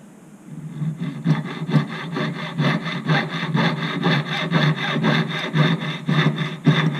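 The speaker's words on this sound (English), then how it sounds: "I'm gonna saw it where I marked it." Steady back-and-forth sawing through silver with a fine jeweller's saw blade, rapid regular strokes, close and fairly loud, with no voices.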